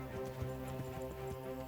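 Horse hooves clip-clopping in the video game Kingdom Come: Deliverance, a steady rhythmic trot at moderate volume over a continuous droning background of game ambience and music.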